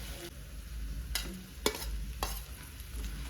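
Onion with ginger garlic paste stirred and frying in a pan for paneer burji, a low steady sizzle broken by a few sharp scraping strokes of a spoon, fairly quiet and close.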